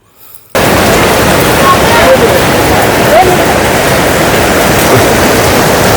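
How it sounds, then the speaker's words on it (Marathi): After a brief quiet moment, a loud, steady roar of a mountain waterfall at Marleshwar cuts in and continues unbroken, a dense rushing wash of sound close by. "हा पांढराशुभ्र धबधबा प्रचंड वेगाने जेव्हा खाली कोसळतो"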